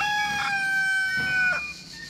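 A rooster crows loudly and close in one long, drawn-out call with a held, wavering tone, alone with no talk.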